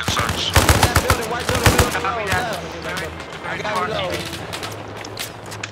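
Rapid automatic gunfire bursts in a military video game, loud and dense early on, then continuing more sporadically beneath steady talking voices.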